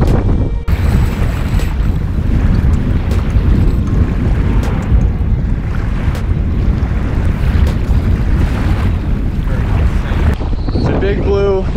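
Strong wind blows steadily at a Long Island beach during surf fishing for bluefish, buffeting the microphone with a loud, continuous roar and mixing with rushing surf, while a brief voice is heard near the end.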